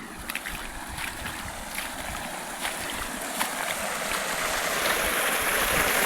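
Water flowing steadily at a farm well or channel, a continuous broadband rushing that builds slightly louder toward the end, heard close with no voices.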